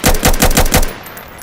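A rapid burst of about six automatic gunshots from an ACS gun in a Roblox game, sharp and loud at a steady rhythm, followed by a brief fading tail.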